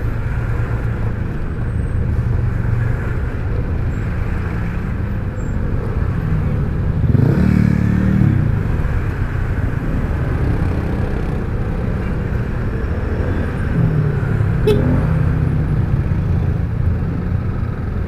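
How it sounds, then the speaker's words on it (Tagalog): Morning road traffic rolls by in a steady wash of passing engines and tyre noise, with a couple of louder vehicles swelling past nearby. "Morning traffic."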